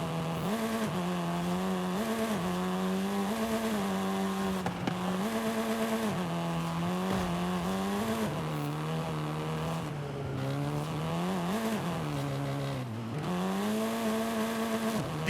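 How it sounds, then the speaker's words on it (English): A Volkswagen Golf R in Forza Horizon 5 drones steadily through its engine, the pitch rising and dropping with gear changes and revs, with faint tyre noise underneath. "This version is the Volkswagen Golf R,"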